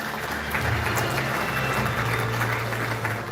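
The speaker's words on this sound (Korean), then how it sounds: "박수 한번 보내주십시오" Audience applause at a book concert event held in a convention hall, heard as a steady, moderately distant wash of clapping with a faint low hum underneath.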